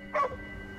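A single short dog bark from the Ghostwire: Tokyo video game, close and clear, followed by low game ambience.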